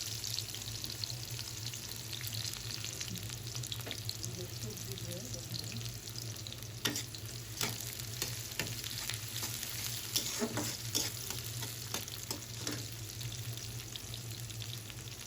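Chopped onion and a dried chili frying in oil, a steady close sizzle broken by repeated sharp scrapes and clatters of stirring throughout.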